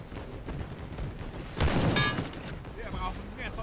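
A gunshot headshot from a rifle in the World War I game Over the Top: a sharp burst of fire standing out loud and close above steady battlefield background noise, with a brief ringing tail.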